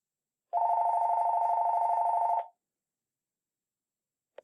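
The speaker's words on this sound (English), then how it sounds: "Sorry for the phone." A telephone rings in a room during a mind-mapping demo, heard as one steady electronic tone that lasts about two seconds and then cuts off into silence, with no one speaking.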